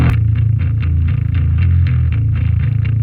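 An electric guitar played through a scooped distortion amp preset chugs out loud, palm-muted rhythmic notes with a heavy low end, fast and driving, with no voices.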